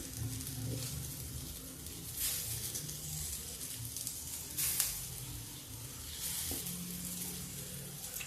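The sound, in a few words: roasting barnyard millet rice with dry fruits in a pan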